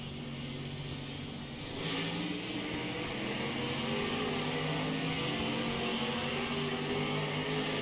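Stock cars roar away at the green flag on the short oval at Bristol, a pack of engines droning and revving together loud and steady, swelling as the field accelerates.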